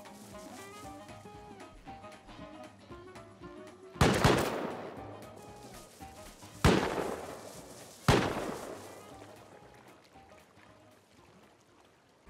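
Gunfire in the video game Rust: three loud, sharp shots spaced a few seconds apart, each with a long ringing decay, over a quiet in-game ambience with soft tonal music.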